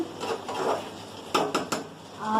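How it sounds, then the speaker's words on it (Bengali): Spices with red chili powder being stirred and fried in a cooking pot, with soft scraping followed by three quick knocks of a utensil against the pot, close and without speech. "এটাকে একটুখানি নাড়িয়ে একটুখানি মশলাটাকে কষে নেবো"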